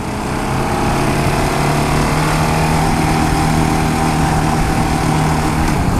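A 2015 KTM Duke 690 motorcycle engine revs loudly and continuously, its steady droning hum rising as the bike pulls away, close and alone without talk.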